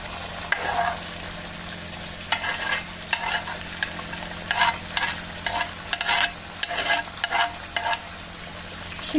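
Sac kavurma meat fries with onion and peppers on a sac pan, a steady close sizzle broken by repeated scraping stirs of a utensil.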